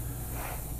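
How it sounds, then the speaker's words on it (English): Black spray paint hissing from an aerosol can in one continuous, close burst, steady and unbroken for under a second. "I happen to have black here, so. And I'm just gonna kind of go over this real quick to spray it in."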